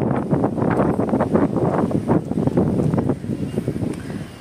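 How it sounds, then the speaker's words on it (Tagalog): Gusty wind rushing past a microphone outdoors, a steady rumbling buffet lasting the whole stretch without voices. "Hangin raman."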